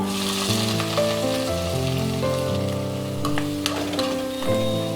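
Onions and green chillies frying in a pan with whole spices for a drumstick curry, a steady close sizzle over quiet background music, with no talking.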